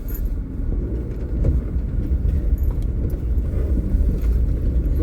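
A car whips through a full 360-degree spin on a road, giving off a steady, close, low engine and tyre rumble that holds for the whole stretch with no clear break.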